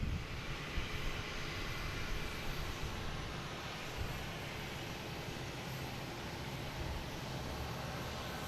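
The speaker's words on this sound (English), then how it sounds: "next coming in, we have a Cessna 402 coming in from Nantucket" A Cessna 402 twin-engine airplane lands at Boston Logan on runway 4 right, heard as a faint, steady broadband engine roar from a distance, with no talk.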